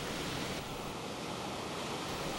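Ocean waves washing onto a sandy shore, a steady, loud broadband rush with no distinct breaks.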